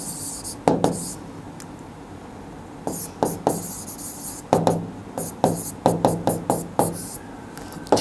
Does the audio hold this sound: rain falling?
no